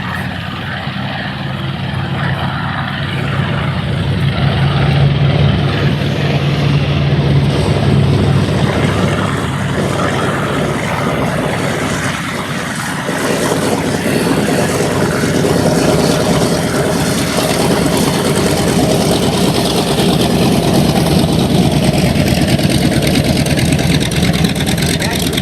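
A World War II Avenger airplane with a 1,700-horsepower radial engine drones loudly and steadily at an air show, the engine roar sustained throughout with wind noise and a voice talking over it.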